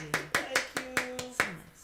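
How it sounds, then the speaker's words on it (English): Hands clap loudly and close into a microphone, about six sharp claps in quick succession with a faint voice underneath. "just clapping so excited and so loud in this mic"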